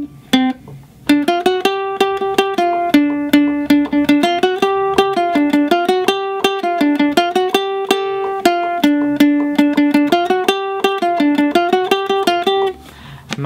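A ukulele plays the original solo of a song, a quick run of bright plucked notes in a steady, busy rhythm for about twelve seconds, loud and close with no talking.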